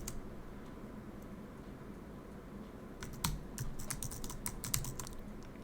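Keys tap lightly on a computer keyboard as a password is typed, a short cluster of quiet clicks that starts after about three seconds of near silence.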